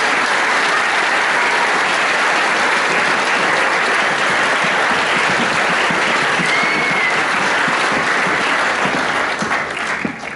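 A graduation audience claps loudly for Year 13 graduates as names are read, a thick, sustained roar of applause from a large crowd that continues at full strength for about ten seconds.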